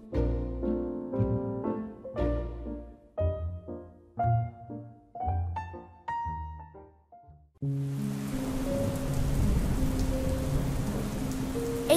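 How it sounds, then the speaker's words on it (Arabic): Heavy rain falling in the street sets in abruptly after a stretch of piano-like music, a dense, loud, steady hiss of downpour with rumbling low tones. "الدنيا بدأت تمطر والناس كلها ما بقتش موجودة في الشارع"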